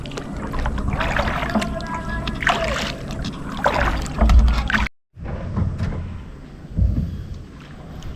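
Paddle strokes dip and swish through water around a small sit-in kayak on Holmes Creek, Florida, a steady watery rhythm close by, with a brief dropout partway through.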